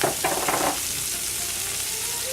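Red peppers, garlic and ginger hit a hot pan with a sharp burst of sizzling and stirring clatter, which settles into a steady, quieter frying hiss.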